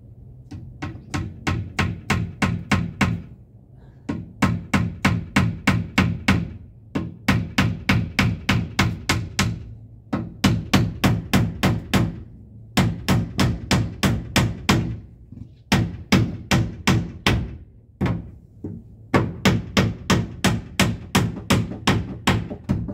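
A hammer drives something in with bursts of rapid, sharp, evenly spaced blows, about ten strikes per burst separated by short pauses, loud and close throughout with no talk.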